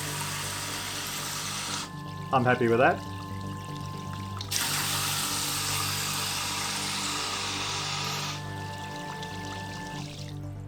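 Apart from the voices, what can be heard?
12V water pump in jerry can pumping water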